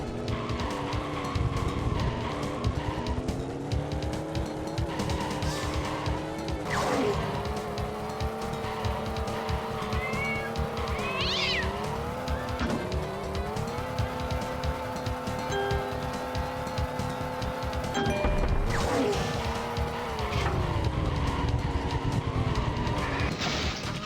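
A toy car races along a track in the Hot Wheels Stunt Track Driver video game, its continuous engine whine rising and falling with brief squealing turns and a couple of impact bursts, steady and loud without talk.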